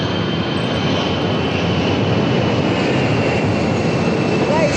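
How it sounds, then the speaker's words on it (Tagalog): An airplane passes low over a residential tower near the airport, its engines giving a steady, loud, broad roar that fills the whole stretch without letting up. "Hindi madaan yung aeroplano guys."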